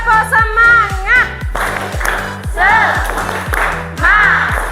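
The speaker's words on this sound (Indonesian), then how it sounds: "Tepuk semangat." A group in a teacher-training classroom performs a rhythmic spirit clap, with steady patterned claps under loud chanting voices.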